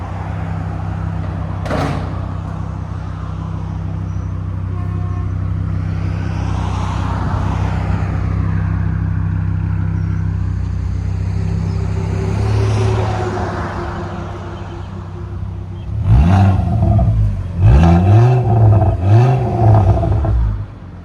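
A 2008 Volvo C70 hardtop convertible with a 2.5L turbocharged five-cylinder and muffler delete idles with a droning exhaust, then rips through several loud, raspy revs near the end, climbing and falling sharply.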